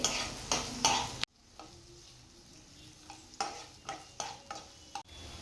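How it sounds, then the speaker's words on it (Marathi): Sliced onions are stirred and sautéed in a pan for a traditional prawn curry, with a spatula scraping loudly in short strokes over a soft sizzle in between. "कांदा व्यवस्थित परतून घ्यायचा आहे"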